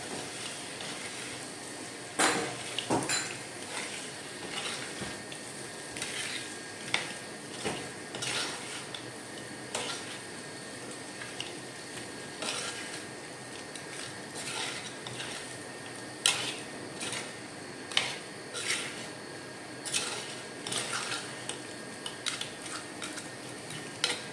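Crab coated in masala is stirred in a pan, giving quiet intermittent scrapes and clinks of a utensil against the pan, with no talking.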